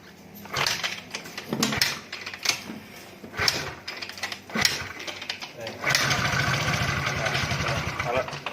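A Suzuki Nex motorcycle with a starting fault is kick-started several times with sharp mechanical thumps, then its small engine catches and runs briefly with a rough, buzzing idle. Someone talks over the attempts.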